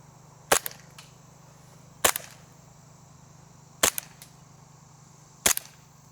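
A Novritsch SSP 5 airsoft pistol fires 0.32 g BBs through a chronograph: four sharp snapping shots spaced about one and a half seconds apart, each with a quick mechanical click trailing it, close up against a faint steady hum.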